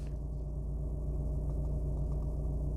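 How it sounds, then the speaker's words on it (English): A 2010 Audi A4 2.0 TDI four-cylinder diesel with a manual gearbox idles steadily, giving a low, even rumble with no one talking. "I'm going to be quiet for a second and then you tell me if you can really hear this engine"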